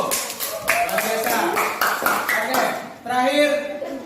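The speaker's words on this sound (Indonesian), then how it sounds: "Oke, tepuk tangan dulu" Classroom applause from a group of students, a dense, continuous patter of many hands clapping for about four seconds, with a brief dip near the end before it swells again.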